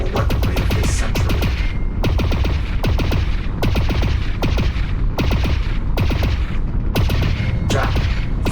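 An energy weapon in the video game Lone Echo 2 fires ionized bolts in quick repeated bursts, loud and close, each volley a sharp crackling blast separated by brief gaps.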